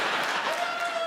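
Audience applause at a stand-up comedy show, a dense steady wash of clapping that fills the whole short stretch, close and loud with no talk over it.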